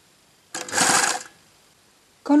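Sewing machine topstitching the edge of a tunic hem runs in one loud, close burst of about a second, then stops and starts again briefly at the end, with no talking.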